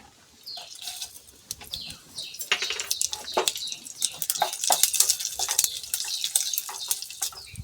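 Dry red chillies with black and white mustard seeds sizzle in hot mustard oil, an irregular stream of crackles and sharp pops that grows denser and louder as it goes, close by.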